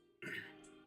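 A single throat-clearing cough, close and fairly soft, with a short rough burst and a brief tail, from someone who has been coughing all day.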